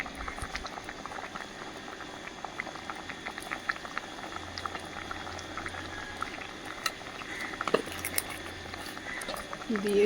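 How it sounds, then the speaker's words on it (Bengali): A thin curry with cumin boils in a pot, bubbling and popping steadily and close for about ten seconds. "জিরেটা দিয়ে বেশ কিছুক্ষণ ফুটিয়ে নিলাম।"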